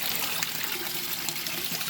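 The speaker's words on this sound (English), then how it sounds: "And I need to water the oncidium." Water trickles and pours steadily while an oncidium orchid is watered during a session of watering houseplants, a continuous close splashing stream with no talking.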